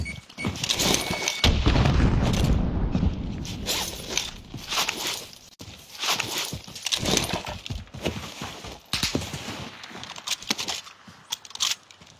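Rapid bursts of video game shooter gunfire, with the player taking shots from an enemy in a tower. Sharp, repeated cracks come in clusters over a busy, dense game mix.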